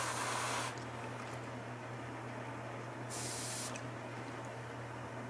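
A paint spray gun lets out two sharp bursts of hissing air while its pressure is set at a MAC valve during painting of a black scheme, each burst loud and close over a steady low hum.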